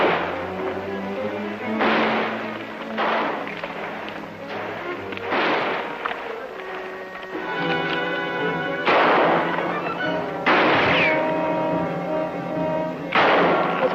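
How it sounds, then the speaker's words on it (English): Gunshots in a western shootout crack out one by one at uneven gaps, loud and booming with echoing tails, and music and voices run underneath. "There's only one of them shooting at us."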